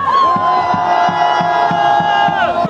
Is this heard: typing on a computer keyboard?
no